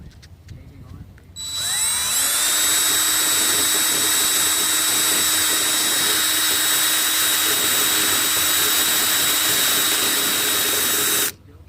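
A DeWalt power tool, used while working out of a van, spins up and runs in one steady high-pitched motor whine for about ten seconds before cutting off.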